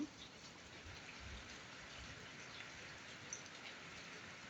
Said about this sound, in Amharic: ቀውጢ ዝናብ አለ